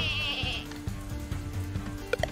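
Goats in the lumberjack video game Lumberhill bleat in a short wavering call at the start, followed by soft game clatter and a few sharp blips near the end.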